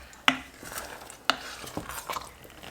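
Homemade peach pie filling simmering in a pot as a spoon stirs it, with two sharp knocks of the utensil against the pot's side over a soft bubbling and scraping.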